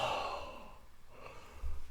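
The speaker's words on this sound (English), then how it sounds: "Oh, I'm yawning." A person yawns mid-conversation during an online poker session, a single long breathy exhale that fades, followed by a short intake of breath at the end.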